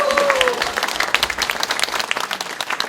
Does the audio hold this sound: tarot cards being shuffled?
no